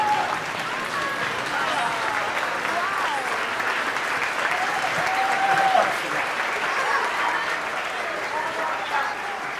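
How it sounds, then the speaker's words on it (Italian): Warm, sustained applause from a live audience at an Italian variety-style show, steady dense clapping filling the whole stretch with cheering voices and chatter mixed in. "Facciamole un calorosissimo applauso!"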